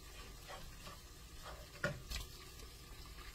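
Ground meat browning in a pan for dirty rice, a soft, continuous sizzle at low volume with a few scraping stirs from a utensil, one louder clatter near the middle, no voices.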